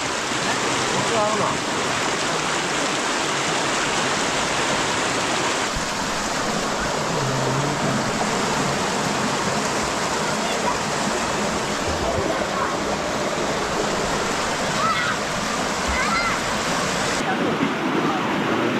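Rushing stream water by a village creek where crabs are caught, a loud, steady broadband roar filling the whole stretch close by, with a voice faintly present under the flow.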